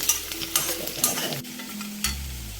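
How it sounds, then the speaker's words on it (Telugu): Onions fry for a gongura curry, a crackling sizzle with scraping stirs and a few sharp utensil knocks against the pan, close and fairly loud throughout a short stretch with no voices. "పెద్ద పెద్దవన్నీ కొంచెం ఫ్రై చేసుకుంటున్నాం."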